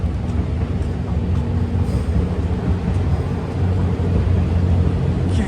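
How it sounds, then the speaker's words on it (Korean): A ten-car luxury sleeper train, the Mizukaze, pulls out near Matsue Station in Japan, giving a steady, close, low rolling rumble that holds even and slowly swells slightly toward the end, with no voices over it. "열차 출발."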